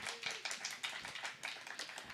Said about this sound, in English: I've never got entrance applause before